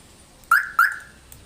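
A universal car alarm set up on a table gives two short, loud chirps about a quarter second apart, the second trailing off, with a faint click near the end.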